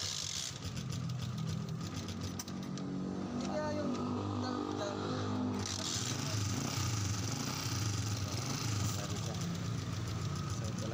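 A motorcycle engine, just repaired after a faulty regulator kept it from starting, runs steadily at idle with a rough, knocking rumble close by. Someone talks over the engine.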